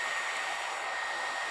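A hair dryer runs steadily at close range, a continuous loud whooshing hiss of blown air with a faint whine, unbroken and alone with no voices.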